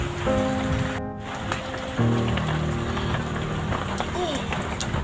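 Steady rain patters on a surface throughout, with tonal background music playing over it.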